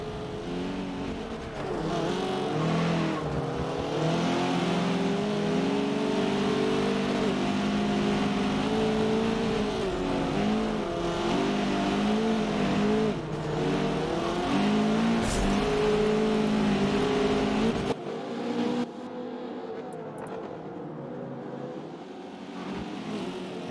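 AMS Huracan race car engines in the video game Forza roar steadily at high revs through a hilltop turn, a continuous droning engine note with shifting pitch that drops away near the end.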